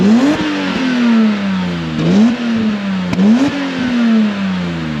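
A warmed-up straight-six car engine revved repeatedly, three sharp blips each climbing quickly then falling back to idle, loud and close, with no talking.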